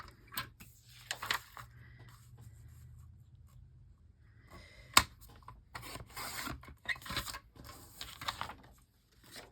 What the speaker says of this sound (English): So I'm going to trim the paper.